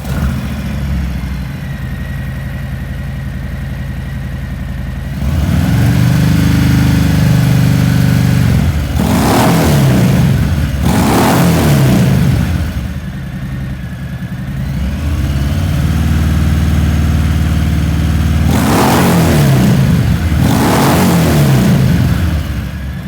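Harley-Davidson Milwaukee-Eight Fat Bob fitted with a 4.5-inch louvered-core muffler, idling with a deep rumble, then blipped through two pairs of sharp revs that surge and fall back, loud and close with no voices.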